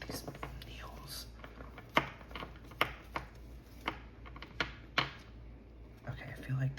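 Tarot cards shuffled with needles tucked among them make close, irregular soft clicks, taps and rustles, with faint whispering alongside.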